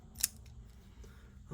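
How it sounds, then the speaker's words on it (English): The small scissors on a new military-style Gerber multitool give one crisp snip, followed by quiet handling and a soft click as the tool is worked. "That's scissors."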